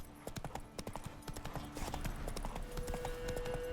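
Roach, the horse in the video game The Witcher 3, trots along with rapid, rhythmic hoof clip-clops close by, the beat growing slightly heavier toward the end over a soft ambient hum.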